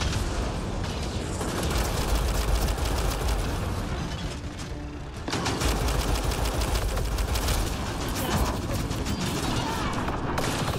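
Sci-fi shooter Mass Effect Andromeda combat, a pistol loaded with incendiary ammo firing amid a dense, loud barrage of rapid shots, impacts and explosions, with only a brief dip in the chaos before it resumes.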